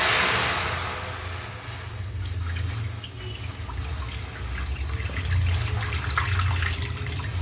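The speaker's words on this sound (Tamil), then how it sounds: "இப்போது இந்த சேமியா வேகிறதுக்கு நம்ம தண்ணி ஊற்றிப்போம்." Water is poured into a pot to cook vermicelli for payasam, a steady splashing gush that swells and dips and runs throughout, with no voices.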